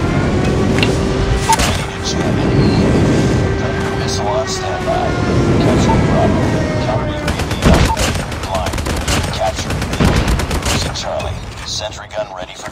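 Airstrike explosions and heavy gunfire ring out in Call of Duty Mobile multiplayer, loud dense bursts and booms stacking up, with game announcer voice lines heard over the battle.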